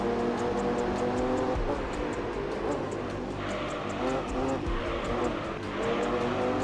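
Race car engine roaring steadily through a Gran Turismo 3 race, with continuous revving, gear changes and occasional tire squeal, loud and close throughout with no talking.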